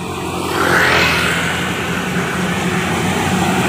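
Heavy trailer truck rumbling past on a quiet Indonesian toll road, a loud steady engine and tyre roar that swells near the one-second mark and then holds.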